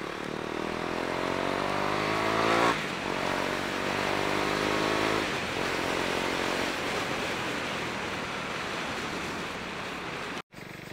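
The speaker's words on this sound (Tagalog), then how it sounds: "Mukhang marami akong nakikitang motor na mga naka-open pipe." Loud motorcycle engines with open exhaust pipes roar and rev past on New Year's Eve in the Philippines, one sweeping through early, a steady rumble continuing throughout without talk.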